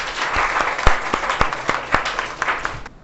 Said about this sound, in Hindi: हाँ, ताली बजा दो यार।